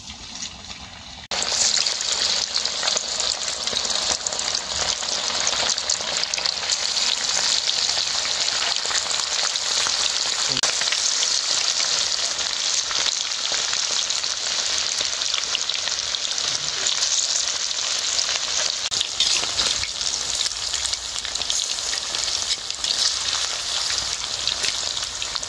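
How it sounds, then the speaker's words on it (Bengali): Chicken pieces deep-frying in plenty of hot oil give a loud, continuous sizzle that begins abruptly after a moment of quiet and then crackles steadily, close and alone, with no talking. "এবার এই যে এই মাংসের টুকরোগুলোকে তেলের মধ্যে দিয়ে দেবো।"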